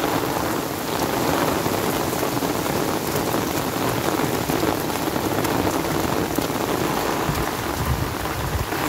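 Heavy rain in Korea pours down in a loud, dense, continuous roar that never lets up, close by and without any voices.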